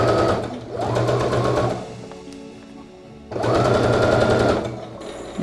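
A sewing machine runs a long basting seam at its longest stitch length, whirring steadily in two long bursts with a short pause between them, loud and close.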